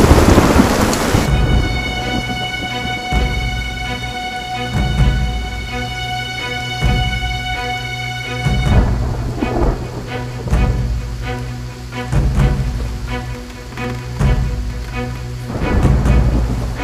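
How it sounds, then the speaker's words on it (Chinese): Heavy rain pours steadily while deep thunder rumbles and cracks through a costume-drama scene, loud and continuous for the whole stretch, with a sustained music score layered underneath and no voices. "外面打雷了"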